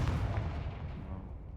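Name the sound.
Confringo fire spell blast in Hogwarts Legacy video game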